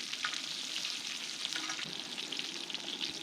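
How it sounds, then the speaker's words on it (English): Food basted with olive oil and butter sizzles and fries steadily on a Skottle griddle outdoors, a dense continuous hiss with faint stirring scrapes, close and alone without talk. "I'm going to keep basting it with this olive oil and butter."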